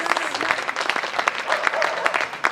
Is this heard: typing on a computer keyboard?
no